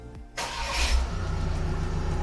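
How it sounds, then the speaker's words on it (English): A VW Transporter T6.1 van fitted with a sound booster system cranks briefly, then its engine catches and settles into a steady, low idle rumble heard close by. "So Rich, turn the engine on."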